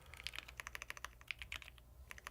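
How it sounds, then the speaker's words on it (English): Fast typing on a mechanical keyboard, a quick uneven run of crisp clicky keystrokes, fairly soft and close with short pauses between bursts. "What keyboard is that? Sounds really good."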